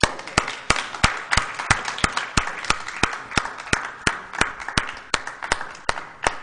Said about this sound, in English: let's give one more round of applause to Mr.